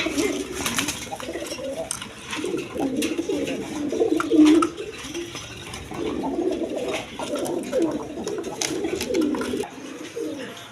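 Chila pigeons cooing steadily at close range, a run of low throaty coos repeating in bursts with brief pauses, with faint clatter in the background.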